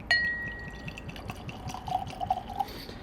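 Wild Turkey bourbon trickles into a tasting glass, a soft close pour with small drips and light glassy ringing in a quiet room.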